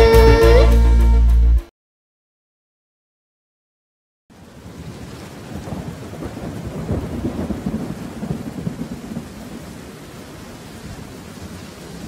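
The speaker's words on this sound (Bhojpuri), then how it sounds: "झम झम झम झम बारिश आइल, टप टप टप टप बारिश आइल" Rain and thunder effect in a Bhojpuri children's song, entering after a short burst of music and a pause: a steady broadband wash of rain with low rumbling, constant and fairly loud to the end.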